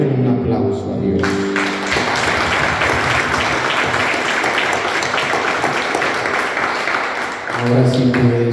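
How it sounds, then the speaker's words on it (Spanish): A church congregation at a Spanish-language charismatic prayer service bursts into loud, sustained applause lasting several seconds, with a speaking voice briefly heard before and after the clapping. "Denle un aplauso a Dios."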